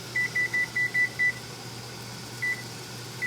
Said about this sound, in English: the timer went off on this